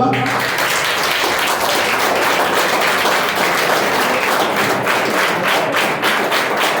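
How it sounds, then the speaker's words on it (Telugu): A school assembly breaks into a round of applause for nurses and doctors, many hands clapping steadily and loudly throughout, with some voices mixed into the dense patter. "వాళ్ళందరికీ ఒక్కసారి బిగ్ రౌండ్ ఆఫ్ అప్లాజ్ ఇద్దామా?"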